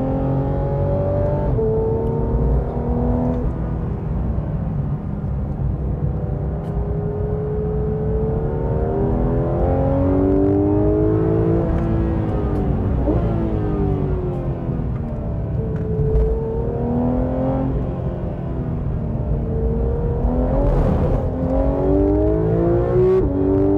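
A Porsche GT3 RS with a naturally aspirated engine accelerates hard around a circuit, its loud continuous howl climbing and falling through repeated gear changes, heard close from inside the car.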